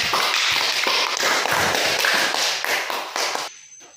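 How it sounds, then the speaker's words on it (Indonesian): Schoolchildren in a second-grade classroom clap together in a dense, brisk burst of applause that fills the room, then cuts off abruptly near the end. "Tepuk tangan dulu untuk kita semua"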